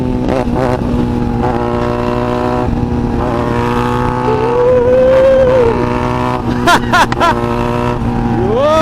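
A Benelli 300i motorcycle engine runs loud and close, its steady drone rising and falling through several throttle revs with a few sharp blips near the end.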